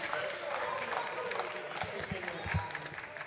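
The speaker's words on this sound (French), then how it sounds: "Applaudissez, soyez fiers de vous." An audience applauds steadily at a political gathering in France about bullfighting, with dense clapping running throughout and a few voices and calls rising over it.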